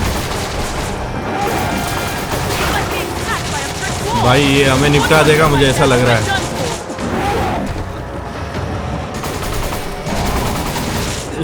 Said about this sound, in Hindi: भाई कितनी गोलियां मारनी पड़ रही यार।